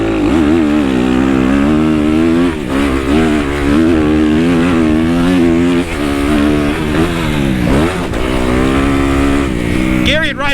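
A trials motorcycle rides off-road through muddy ground, its engine close and loud, revving and rising and falling in pitch repeatedly throughout with brief throttle dips.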